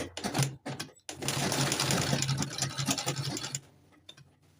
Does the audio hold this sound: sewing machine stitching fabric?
yes